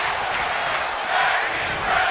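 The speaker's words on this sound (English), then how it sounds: "the crowd is loving this" Wrestling crowd cheering and shouting during a match; a dense, continuous roar of many voices with slight swells, close and loud throughout.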